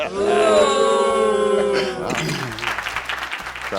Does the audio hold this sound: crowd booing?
yes